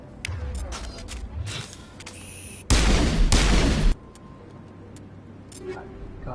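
Pistol shots in Mass Effect Legendary Edition, a few sharp isolated cracks early on followed by one dense, loud burst of firing, with talk heard around it.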